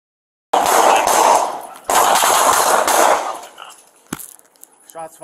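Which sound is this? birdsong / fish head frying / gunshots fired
gunshots fired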